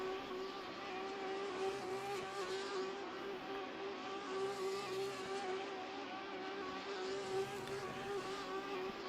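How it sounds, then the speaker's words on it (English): A Formula 3 race car at the Sepang circuit spins donuts at the side of the track, its engine holding a sustained high droning note that swells and fades slightly as the car circles, heard from a distance. "Yanis is just doing some donuts here on the side of the track."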